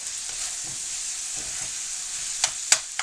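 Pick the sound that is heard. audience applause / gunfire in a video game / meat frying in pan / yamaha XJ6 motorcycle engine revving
meat frying in pan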